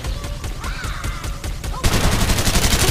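Rapid automatic gunfire in the battle royale game Farlight 84 rattles in a quick, even rhythm of close, punchy shots, then surges into a louder, denser burst for the final second.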